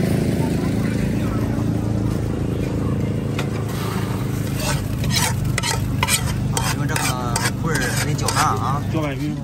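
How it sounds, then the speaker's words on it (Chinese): Puffed rice is stirred in hot sugar syrup for Chinese rice cakes at a rural market stall in Shandong, a continuous loud scraping and sizzling under steady low machine hum, with people talking over it. "搅拌匀。 说你搅拌多久？ 搅匀就可以了。"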